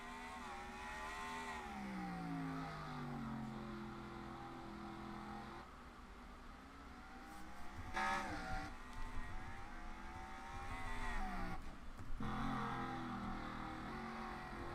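Engines of a pack of race cars drone and rev steadily at the green flag at Martinsville in a racing video game, with a rising whine and swells as the field pulls away, with no talking.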